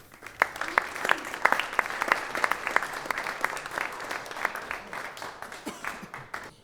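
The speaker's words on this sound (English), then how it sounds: "a big applause for James." Conference audience applauding a speaker introduced to present on building a Silverstripe module, many individual claps close by forming an irregular patter that swells and then thins out.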